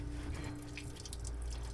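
A little water trickling and dripping out of an exhaust hose on a Hatteras 58 boat during repair of a below-waterline exhaust leak, a steady faint splashing flow close by with no talk.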